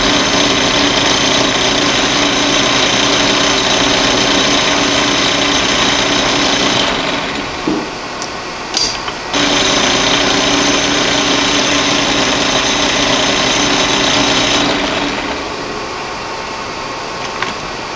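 Loud, steady machining whine and grinding of a metal lathe parting off metal, stopping briefly with a clunk, then resuming before winding down to a quieter hum.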